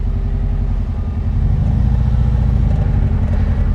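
A supercharged 1600cc VW Karmann Ghia engine revs loud and close, a steady low mechanical drone with clattery texture that holds without a break through the whole span.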